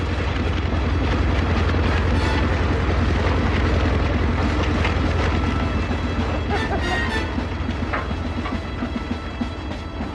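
Loud, continuous low engine rumble with mechanical clatter of an approaching tank in a 1985 World War I war drama, holding steady throughout with faint voices shouting briefly in the mix.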